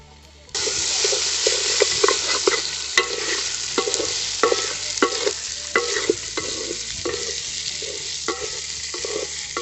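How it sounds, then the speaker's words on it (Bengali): Washed, unroasted golden moong dal and rice are stirred in a hot pot for khichuri, making a steady loud sizzle broken by regular scraping strokes of the spoon. "এরই সাথে সাথে আমরা দিয়ে দেবো আগের থেকে ধুয়ে রাখা সোনা মুগের ডাল।"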